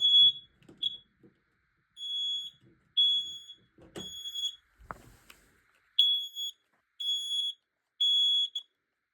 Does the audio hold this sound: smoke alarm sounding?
yes